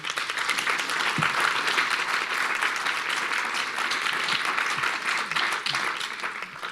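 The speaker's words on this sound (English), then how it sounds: "Let's give another round of applause to a great panel." Steady audience applause at an urban water management panel event, dense clapping from a sizable crowd holding at an even level throughout.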